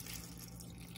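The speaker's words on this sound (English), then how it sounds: "I'm gonna add 400 milliliters of water." Water, about 400 milliliters, pours steadily into a slow cooker holding chicken bouillon and spices, a continuous close splashing stream with no talk.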